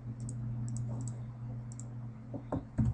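Computer mouse clicks while painting with a brush in Photoshop, a quick string of small, light clicks over a steady low room hum, with a few louder knocks near the end.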